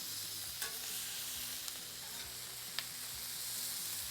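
Four pounds of chicken wings frying on a Blackstone griddle, a steady loud hiss of sizzling fat with occasional small pops and spatula taps.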